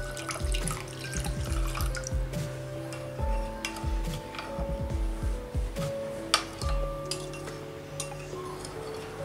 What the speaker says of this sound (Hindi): इसमें 1/2 कप के लगभग पानी ऐड करेंगे।